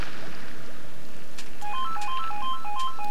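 A telephone rings in the Metro 2033 video game, a repeating electronic tone pattern over a low background hum.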